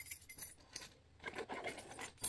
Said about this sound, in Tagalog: Ito susi ko mga besyo.